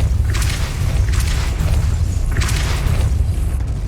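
Depulso force-push spell cast in Hogwarts Legacy on PS5, giving deep booming whooshes with rumbling low end, two or three bursts over a constant game background drone.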